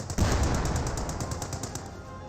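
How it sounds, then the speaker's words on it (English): A 37mm anti-tank gun in Company of Heroes 2 fires at a Sherman tank, opening with a loud blast that gives way to a rapid, even rattle of repeated shots across the whole span. "AT gun firing against the Sherman tank"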